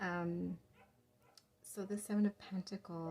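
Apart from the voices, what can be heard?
dogs barking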